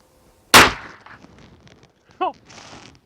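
A single sharp gunshot from a firearm loaded with reloaded Lehigh Extreme bullets, loud and close with a quick decaying tail, followed by faint rustling and a brief short vocal sound.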